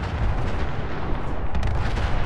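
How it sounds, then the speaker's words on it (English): Explosions in the video game Fallout 4 come as dense, rumbling booms and blasts in quick succession, loud and continuous with sharp cracks near the end and no talking. "I'm hearing a lot of explosions."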